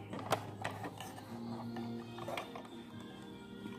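A sewing machine runs a straight seam along a towel, with a steady mechanical whir and clicking, quiet and close, broken by one sharp tap near the start.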